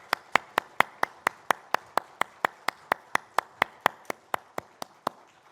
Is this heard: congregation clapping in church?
yes